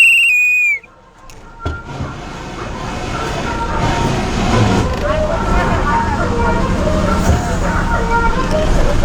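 APSRTC bus on the Tenali to Kothurulanka route running through Vemuru village: a brief high whistle, then a sustained, loud rumble of engine and road noise from inside the moving bus.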